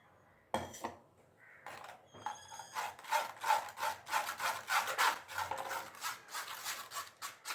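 Ground tomato puree being worked through a filter, giving a run of wet rubbing and scraping strokes that swell and fade in an uneven rhythm, close and fairly loud, with no talk.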